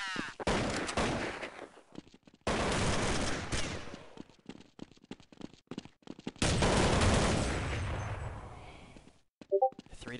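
Gunfire in the video game Counter-Strike 1.6 during an expert-bot match: loud rapid rifle bursts and sustained fusillades that break into short pauses and single cracks, heard close with no voices.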